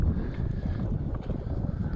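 Wind blowing across open water around a fishing boat, a close, buffeting gusty rush striking the microphone in uneven pulses over two seconds, with no speech.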